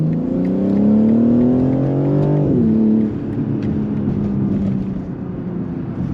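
A BMW M3 G80 revs hard while accelerating, its engine note climbing steadily for a couple of seconds, then dropping as the throttle lifts and it settles into a lower, steady drone. The sound is close and loud, with no talking.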